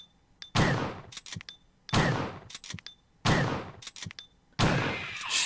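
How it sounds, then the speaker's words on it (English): Four loud, evenly spaced gunshots in Resident Evil Director's Cut, each a sharp blast with a short decaying tail, separated by quieter clicks and mechanical clatter, no talk. "It's the first time I've had to use 5 shots to kill one of those."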